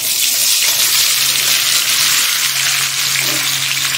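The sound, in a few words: mango pieces frying in oil with dried chillies for pickle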